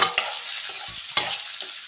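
Two medium onions hit hot oil in a pan for baby corn gravy, giving a steady close sizzle with a couple of sharp utensil knocks and brief stirring scrapes.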